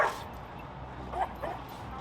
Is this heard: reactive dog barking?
yes